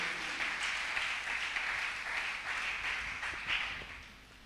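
A church congregation applauding, a steady wash of many hands clapping at moderate distance, sustained throughout with slight swells and no voices.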